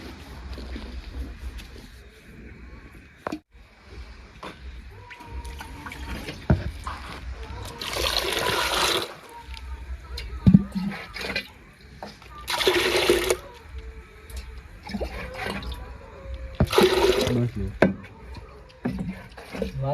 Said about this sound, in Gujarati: તો હવે પાણી વેડી દઉં આમાં આપણે, એટલે આપણે પાણી બનીને તૈયાર થઈ જાય